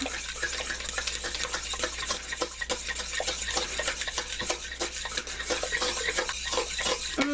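A spoon scrapes and clinks against a bowl while pumpkin pie filling is mixed with whole milk, a continuous busy run of stirring and tapping at close range with no talk.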